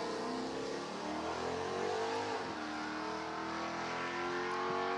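Mopar drag race cars roar at full throttle down the strip, a loud continuous engine drone with rising and dipping pitch as the drivers go in and out of the throttle, steady and close with no talk.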